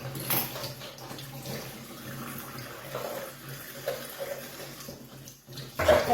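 Water is poured onto a round stainless steel scouring sponge, giving a soft, steady trickle and splash that runs throughout at moderate level, with a brief brighter splash near the end.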